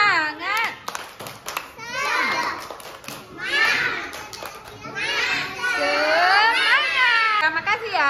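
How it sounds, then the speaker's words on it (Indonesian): Schoolchildren at an elementary school in Banda Aceh perform a rhythmic spirit clap, their hands beating in patterned bursts mixed with excited, high young voices chanting and shouting close by. "Tepuk semangat"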